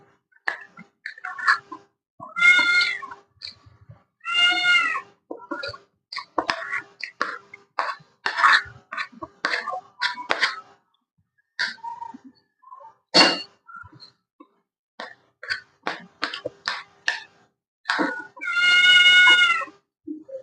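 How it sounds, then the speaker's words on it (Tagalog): A pet cat meows repeatedly in short, close, clear calls with quiet gaps between them, plus a few longer drawn-out wails during an indoor dinner-time setting. "Meron po akong background. Yung alaga ko pong pusa."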